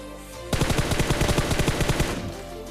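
Rapid automatic gunfire rings out in PUBG Mobile, a burst of about fifteen evenly spaced shots lasting roughly one and a half seconds, loud and close.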